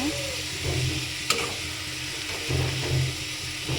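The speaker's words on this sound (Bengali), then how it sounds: "সব কিছু ঘিয়ের সাথে মিশিয়ে নেব" Ingredients stirred in ghee in a pan, a steady sizzle with scraping spoon strokes, moderately close, with a faint voice murmuring briefly underneath.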